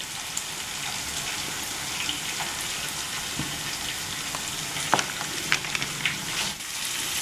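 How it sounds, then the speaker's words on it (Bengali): Spice paste fries with chickpeas and potatoes in a pan, a continuous dense sizzle with occasional stirring scrapes and clinks, close and steady throughout. "মশলাটা ভালো করে আমি ছোলা আর আলুর সাথে কষিয়ে নিচ্ছি।"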